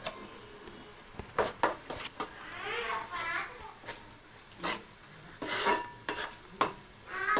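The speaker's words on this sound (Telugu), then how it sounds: "బాగా మిక్స్ చేసి ఇది గోల్డెన్ బ్రౌన్ కలర్ వచ్చేంత వరకు ఆగాలి." Fish curry ingredients are stirred and fried in a pan, with soft sizzling under intermittent scraping and clinking of the spoon, close by, while someone speaks softly in between.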